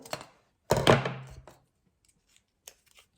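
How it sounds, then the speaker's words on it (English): Scissors cut a paper circle for a paper flower base, with one crisp snipping crunch followed by a few faint clicks in near silence. "I'm going to cut myself sort of a circle"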